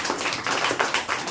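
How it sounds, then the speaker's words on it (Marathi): Clapping from an audience at a 10th-standard school farewell function, a short loud burst of hand claps with a loosely pulsing rhythm. "तर त्यांच्यासाठी एकदा आपण जोरदार टाळ्या वाजूया"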